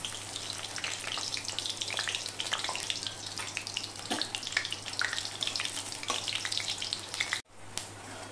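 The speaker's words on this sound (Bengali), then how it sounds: "সবার প্রথমে আমি একটা শুকনো লঙ্কাকে ফোড়নে দিয়ে দেবো, আর দিয়ে দেবো 2টো তেজপাতা।" A dried red chili and two bay leaves tempering in hot oil for ghugni, giving a dense, continuous hiss and crackle close up that cuts off abruptly near the end, then resumes more faintly.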